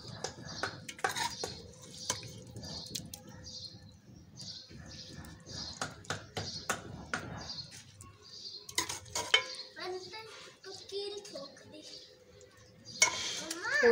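Masala spice mix tipped into a pot of frying food for a village-style teh wali biryani, followed by stirring with a spoon: scraping clinks against metal, low sizzle underneath, and a few sharp knocks toward the end, under occasional talk.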